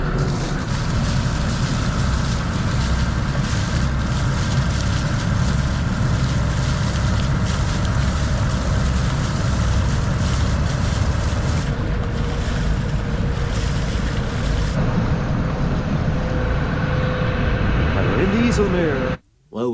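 A large boat's engine passes near a canal lock in the Netherlands: a steady low rumble with churning water noise drones on for a long stretch, loud and close, then cuts off abruptly at the end.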